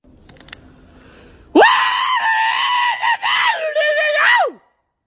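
A person yells one long, very loud call outdoors, a sustained strained shout of about three seconds with wavering pitch that breaks off abruptly, after a few faint sounds beforehand.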